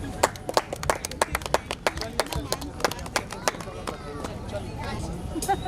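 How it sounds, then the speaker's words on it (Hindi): Audience at a 100th birthday celebration for Mohammed Rafi applauds in a steady burst of sharp, dense hand claps, with crowd murmur and voices blending underneath throughout. "चलिए ताली बजवाइए।"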